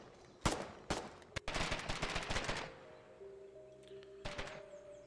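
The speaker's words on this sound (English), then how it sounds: "Why are you shooting?" Video game gunfire cracks out in close, loud bursts: single shots first, then a rapid automatic volley, then a final shot as a faint tonal hum lingers.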